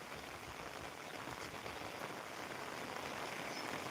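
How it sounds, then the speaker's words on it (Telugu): Heavy rain pours steadily over a village, a dense, continuous hiss of drops striking surfaces with no pauses and no voices. "ఇప్పుడు కొంచెం వర్షం ఎక్కువ కురుస్తుంది"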